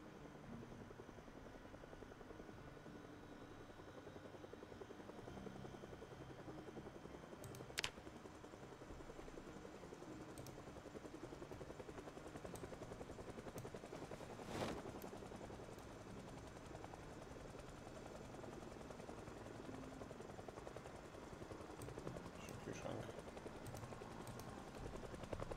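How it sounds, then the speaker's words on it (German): A helicopter in Project Zomboid thrums continuously from a distance, a steady low rotor drone lasting the whole stretch with a few sharp faint cracks scattered through it and no talk. "Ein Helikopter, oder?"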